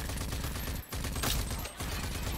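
Sustained, dense automatic gunfire from weapons in the shooter RAGE 2, loud and continuous with two brief gaps in the stream of rapid shots.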